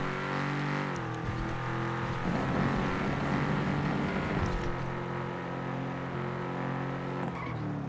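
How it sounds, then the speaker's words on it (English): A video game car engine drones steadily and close, shifting its pitch as it revs and settles, continuous from start to finish with no voices over it. "My car sounds different"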